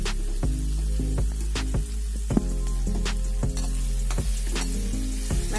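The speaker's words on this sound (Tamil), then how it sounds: "வெங்காயம் நல்லா வதங்கட்டும்." Chopped onions sautéing in a pan with curry leaves give a steady close sizzle, with a few sharp stirring scrapes and taps breaking through now and then, and no voice.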